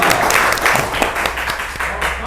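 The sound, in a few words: applause, clapping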